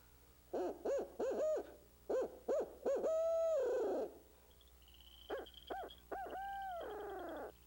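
A barred owl locator call for turkey hunting, voiced by a person imitating the owl's "who cooks for you, who cooks for you all" cadence: two bursts of clipped hoots, each ending in a long drawn-out wavering hoot, loud and close.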